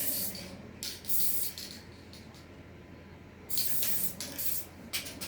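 Spray glue hisses from a can inside a box while glitter-coating a beach tumbler, coming in several short, close bursts with quieter pauses between them.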